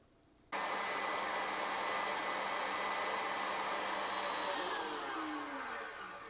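Electric mixer running steadily at high speed, whipping egg whites toward stiff peaks for a cheese soufflé; a loud continuous whirring drone that starts abruptly and shifts slightly in pitch near the end, with no talking.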